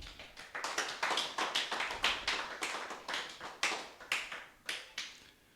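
A church congregation claps in a steady, rhythmic beat, loud and close, with sharp evenly spaced hand claps running throughout.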